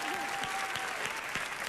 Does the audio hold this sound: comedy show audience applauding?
yes